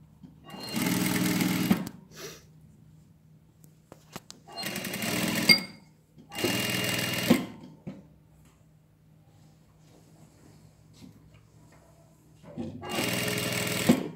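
A sewing machine stitches a jacket hem lining in four short bursts of steady, close mechanical whirring, separated by quiet pauses with occasional handling clicks.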